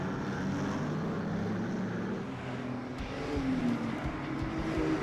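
NZ stockcars roaring past on a race track, a continuous loud engine drone that swells and shifts in pitch as the cars sweep by, with no talk.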